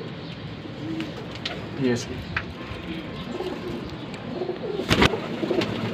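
Lakha golden pigeons cooing in soft repeated throaty calls close by, under someone talking, with occasional sharp knocks and bumps from the birds' surroundings.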